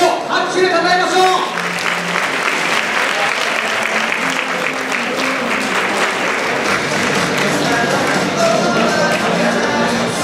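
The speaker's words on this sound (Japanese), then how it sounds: "選手を拍手で称えましょう" Steady, loud audience applause rings out for male athletes at an NPCJ bodybuilding contest awards ceremony, continuous clapping throughout with an announcer's voice over it at the start.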